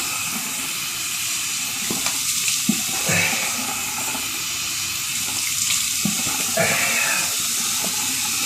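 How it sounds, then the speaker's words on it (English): Tap water runs steadily and splashes in a basin during a wet shave cleanup, a continuous hiss with intermittent splashes and handling noises close by. "I like to splash off with some cold water to help close up the pores."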